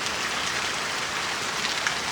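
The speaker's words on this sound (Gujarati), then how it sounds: "એટલો બધો છે કે વરસાદ આવેલો છે" Heavy rain pouring down in rural Gujarat during the sowing season, a constant close hiss of drops striking surfaces with no voices present.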